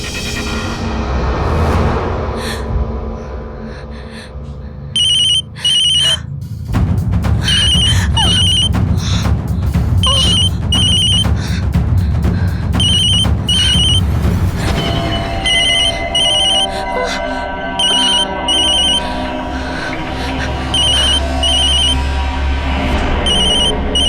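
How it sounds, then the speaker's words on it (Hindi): A telephone rings repeatedly in a Hindi horror drama, its bursts of bright ringing coming in a regular rhythm, loud and clear over a low, rumbling, tense backdrop. "मैं भैया को फोन करके देखती हूँ।"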